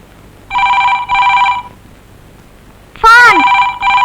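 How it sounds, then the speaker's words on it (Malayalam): A telephone rings in two close electronic bursts, then a brief rising electronic chirp and another ring begins; loud and near, with no talk over it. "ഫോൺ."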